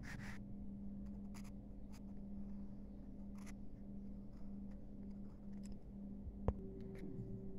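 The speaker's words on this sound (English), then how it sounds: "Trace this letter with the pencil." A pencil traces a capital letter on a paper worksheet with soft, scratchy strokes. The short bursts come at uneven intervals in a quiet room, with one sharp tap near the end.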